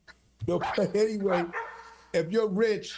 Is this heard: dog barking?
yes